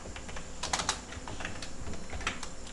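Rapid computer keyboard typing while writing logout code for a website login page, uneven clusters of close, crisp key clicks with brief pauses, no voices.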